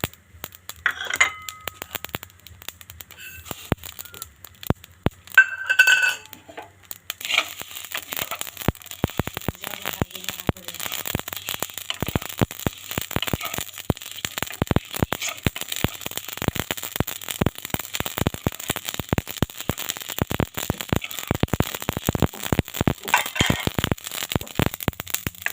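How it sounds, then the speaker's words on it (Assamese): Spices are dry roasted in a pan for red chilli pickle. After quiet opening moments, dense crackling and tiny popping clicks fill the pan, rapid and irregular, close up and with no voices. "আচাৰৰ বাবে মই এই মছলাখিনি আগে অলপ ভাজি ল'ম"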